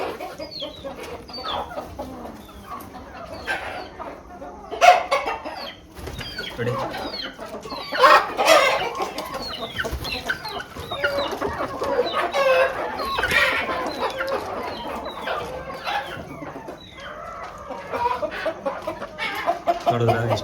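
Country chickens roosting at night cluck and murmur in a busy overlapping chorus with scattered louder squawks, close by, while someone speaks briefly.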